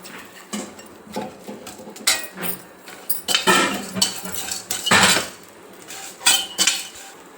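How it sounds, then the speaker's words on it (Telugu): Tamarind dry-roasting in a pan for a drumstick-leaf spice powder, with repeated clanking and scraping of a metal spoon against the pan in uneven bursts. "ఇప్పుడు చింతపండు కూడా ఇంట్లోనే వేసుకొని వేయించుకుందాం"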